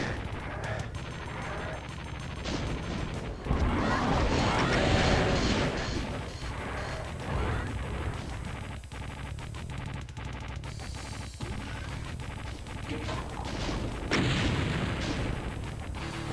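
Classic Doom monsters such as Mancubi and a Cyberdemon fire weapons in a Doom map, a dense barrage of explosive booms, crashes and rapid gunfire blasts running continuously and loud, with no talk.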